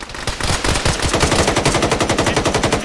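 Sustained automatic gunfire in a military video game, a loud, close, rapid, even stream of shots continuing without break.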